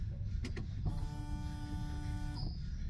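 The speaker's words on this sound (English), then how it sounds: "the pump is priming but nothing's coming out" Electric fuel pump on a Peugeot 308 with a failed pump priming. A steady mechanical whine hums for about a second and a half after a short click, then cuts off. Nearby and moderately loud, with no talk.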